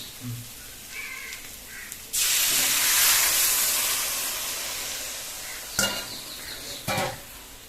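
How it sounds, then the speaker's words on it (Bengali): Coconut milk hits a hot pan of fried potatoes for egg malai curry and bursts into a loud broad sizzle that slowly eases off, followed by a couple of clanks, with a voice speaking softly before it. "এইবারে নারকেলের দুধ ঢেলে দিলাম।"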